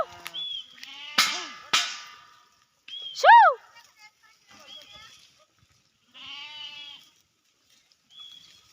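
Sheep bleat a few times, one loud wavering bleat standing out among quieter calls, with pauses and a person's voice at moments.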